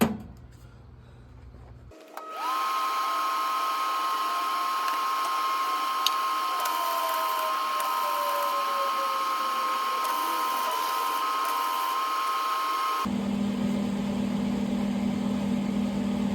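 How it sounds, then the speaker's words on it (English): Metal welded with a welder at a camping project, giving a steady loud electric buzz and hum that holds unbroken for about eleven seconds after a quieter lead-in, then stops into a different background drone. "So go ahead and try and get it rest of the way welded on."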